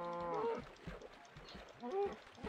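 Cows in the Minecraft video game, two short, faint, low moos about a second and a half apart, with quiet clicking and footstep-like game sounds in between.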